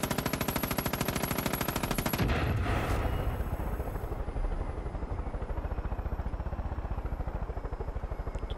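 Rapid automatic gunfire in Far Cry 5, a loud close stream of evenly spaced shots aimed at a target, then a rotor-like hum with rhythmic pulsing and no voices.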